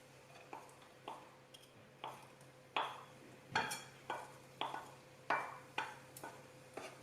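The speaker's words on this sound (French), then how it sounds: "Puis on va mettre les 3/4 de l'oignon à frire." Three quarters of an onion frying in olive oil in a pan, a soft sizzle under a steady series of sharp taps and scrapes from stirring, roughly one every half second.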